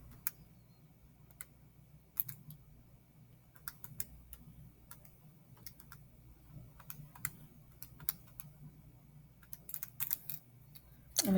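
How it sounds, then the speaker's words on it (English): Calculator buttons tapped in a quiet room, sharp light clicks arriving irregularly in small bursts across the stretch, close and alone with no voices. "So type that in your calculator."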